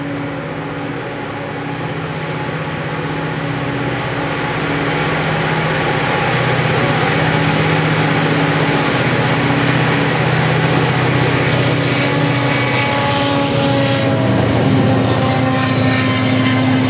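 CP freight train led by locomotive 9017 passing, a loud sustained diesel engine drone with steady low harmonic tones that swells as it draws closer and stays strong throughout, with no talking.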